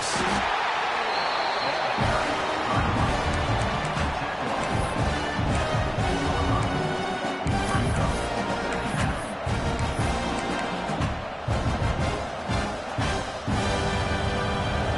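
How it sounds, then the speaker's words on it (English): A packed stadium crowd in a college football video game roars as a dense, continuous wall of noise with swelling surges and sharp thuds mixed in, and a voice talks faintly underneath. "And wow, listen to this crowd noise. This stadium is vibrating."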